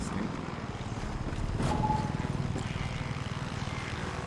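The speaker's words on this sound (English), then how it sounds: "And the most concerning is the chopper." A helicopter in the video game Far Cry 6 drones steadily with a rotor-like engine throb throughout, moderately loud and mixed with other game sounds.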